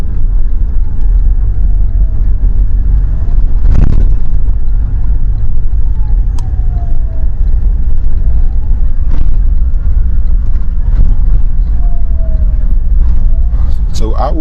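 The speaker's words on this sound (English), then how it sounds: "what it looks like as the convoy departs Tow Town, heading towards the Zwedru and other nearby towns or cities along the road" Vehicles in a convoy pull away along a road toward Zwedru, a steady loud engine rumble with a few passing swells, under continuous talk.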